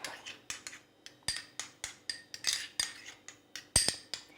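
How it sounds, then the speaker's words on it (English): A spoon clinking against a bowl while stirring stevia into natural yogurt, a steady series of sharp metallic taps roughly every half second, close and fairly quiet. "So I'm just going to add the stevia to my natural yogurt and mix that up"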